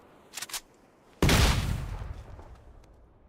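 In the video game PUBG, a single heavy blast, likely mortar or gunfire, booms suddenly after a couple of faint short clicks, then rumbles and decays over about two seconds.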